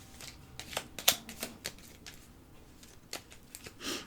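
A deck of tarot cards being cut and handled up close makes a series of crisp, irregular riffling snaps and paper flicks, with a few louder slaps, all in a quiet room without talk.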